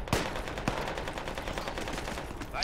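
Rapid gunfire in the military shooter game Project Reality, a steady stream of sharp shots and bursts running throughout, fairly close and dense, with no talk over it.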